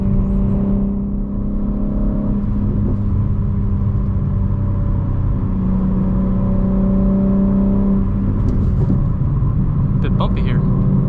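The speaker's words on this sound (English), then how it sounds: "This car is crazy loud at high RPMs." A BMW M3 fitted with a midpipe and aftermarket downpipes drones loudly at high RPM from inside the cabin, a dense continuous exhaust roar with steady low tones, while people talk over it.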